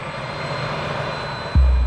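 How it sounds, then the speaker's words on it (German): Mariner L-800 jet airliner being towed out of a hangar at Dallas international airport in an audio drama, a steady whining engine hum with a sharp low thud near the end. "wurde der Mariner L-800 Düsenjet für die Vorbereitung auf den Direktflug nach Los Angeles aus dem Hangar des internationalen Flughafens Dallas rangiert"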